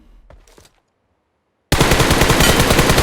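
Rapid automatic gunfire in PUBG Mobile bursts in suddenly and loudly after a near-silent pause, a sustained string of close shots with a few faint sounds before it.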